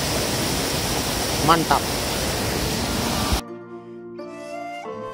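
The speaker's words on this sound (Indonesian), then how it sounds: "salah satu spot wisata yang ditawarkan pada wisatawan adalah air terjun ini" A waterfall near Segara Anak lake on Mount Rinjani roars as a loud, steady broadband rush for most of the clip, then cuts off abruptly; a voice speaks briefly over the noise.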